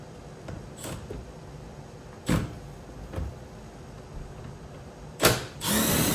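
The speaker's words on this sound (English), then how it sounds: "So I'm going to go ahead and take out the 2 screws here." Two screws being backed out of a Tesla Model Y door panel with a power driver: a few brief mechanical clicks and bursts, then a short whirring run at the end, close and moderately loud, with no talking.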